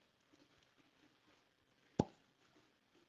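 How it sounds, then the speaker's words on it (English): A cork pops sharply out of a George Dickel whiskey bottle, one short, close plop standing out against a quiet room. "Beautiful, beautiful cork pop."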